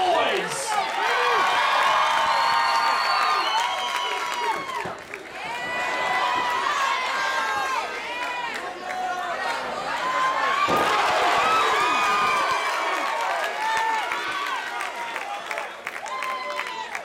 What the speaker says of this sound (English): You got to cheer these guys on, ladies and gentlemen. Make some noise.